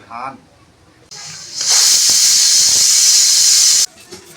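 A pressure cooker of lentil khichuri lets out a loud, sustained steam whistle hiss lasting a couple of seconds before cutting off abruptly, with a brief voice just before it starts.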